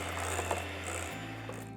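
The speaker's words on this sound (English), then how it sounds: "and then my hand mixer." An electric hand mixer whirring through vanilla cake batter, a steady close motor hum that drops in pitch partway through as the speed changes.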